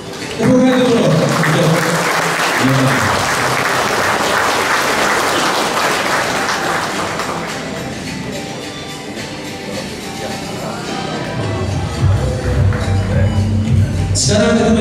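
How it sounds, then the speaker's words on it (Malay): An audience at a parish pastoral centre launching ceremony claps loudly and steadily for several seconds before the applause thins out, with speech through an amplified system near the end. "Tepuk tangan dulu untuk"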